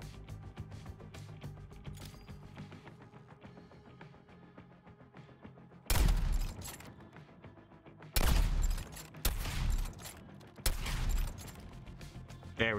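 Bursts of automatic gunfire in the video game Suicide Squad: Kill the Justice League: four loud, separate volleys of rapid shots, each lasting about a second or more, breaking through a quieter game soundtrack.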